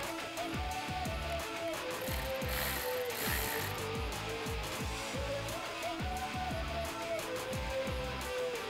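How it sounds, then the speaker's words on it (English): Hand ratchet tightening a battery terminal connector nut on a 2019-2021 Chevrolet Silverado 1500, a steady rapid run of metallic clicks close up, continuous and alone. "with this style connector we can just slide it in and then tighten it back down."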